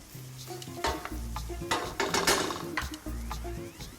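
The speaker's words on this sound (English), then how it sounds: "we're gonna go into the pan and just saute these onions" Onions sauté in olive oil in a pan, a close sizzle broken up by the scrape and clatter of a utensil stirring them in short, uneven bursts, with no one talking.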